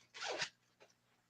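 A zipper on a bag, an item at a general auction, is drawn in one quick longer pull and then a short second tug, close and moderately loud against a quiet room.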